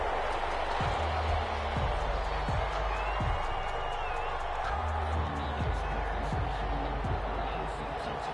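Stadium home crowd in a PS4 football video game, a steady roar of the crowd filling the background under continuous play-by-play commentary, with a few dull thuds scattered through it.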